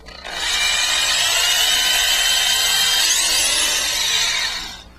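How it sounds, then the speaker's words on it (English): A power drill bores a clearance hole into a solid-body electric guitar, a steady loud high-pitched whine that spins up, holds for about four seconds, then winds down, with no talk. "I drilled this clearance hole about 1/2 to 3/4 of an inch deep."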